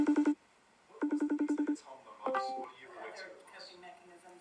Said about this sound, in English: So it starts off with the sound of a video call.